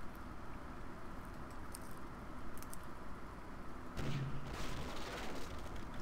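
Cannon fire during a naval battle in the Pirates of the Burning Sea video game: low, muffled booms over a steady rumbling game background, fairly faint, with one heavier blast midway.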